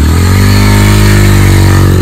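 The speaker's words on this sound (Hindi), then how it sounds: "ये दोनों चला रहे हैं एकदम स्पोर्ट्स बाइक" A modified KTM Duke 200 BS6 sports motorcycle engine revs loud and close, holding a steady, rasping drone for about two seconds with no voices.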